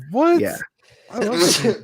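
A loud, close sneeze bursts out, and people talk around it.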